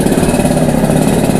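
A high-spec tuned motorcycle with a custom exhaust, built at BMC Tech, idling loud and close with a steady throbbing rumble, no voices.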